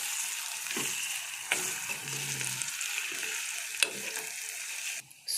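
Masala rice being stirred in a pan after a tablespoon of homemade palau powder goes in, with steady soft scraping and a faint sizzle, plus a few sharp clicks of the spoon against the pan.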